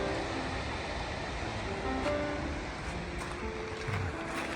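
Ocean waves crash against jagged rocks below a coastal hiking trail in Gros Morne National Park, a continuous broad distant roar with wind, steady and fairly faint throughout.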